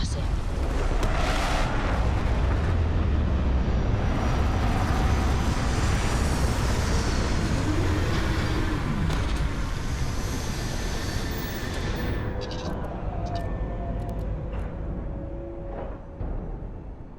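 A spaceship in Starfield comes in to land with a loud, sustained roaring rumble and whooshing thrust, swelling then easing toward the end as sharper clanks and beeps appear.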